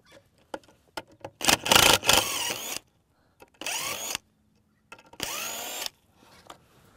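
A power drill backs a screw out of timber on an outdoor vegetable enclosure build, giving a few short whirring bursts separated by pauses, the first and longest one loud and close.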